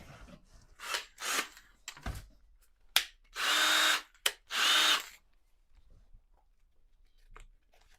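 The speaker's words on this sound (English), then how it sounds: "So I'll get my drill." Power drill run in short bursts and two longer sustained whirs while setting up an Explorer-style electric guitar, loud and close with quiet gaps between, no talk.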